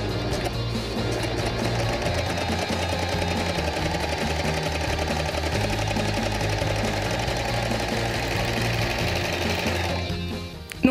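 An overlock sewing machine, one hook deliberately set out of adjustment, runs continuously at high speed with a rapid mechanical chattering and whirring, loud and close, stopping just at the end.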